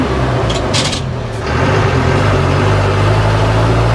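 A loaded truck's heavy diesel engine rumbles loudly at idle right after starting at night on a ghat road, a steady low drone filling the whole stretch.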